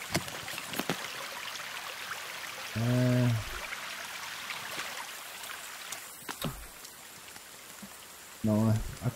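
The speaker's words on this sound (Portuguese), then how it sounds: "tá chovendo" Steady rain falls in the survival video game The Forest, a constant hiss of drops, with a few sharp clicks and two short low tonal bursts of game sound cutting in.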